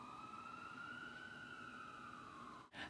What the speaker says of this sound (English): Can you hear the sirens?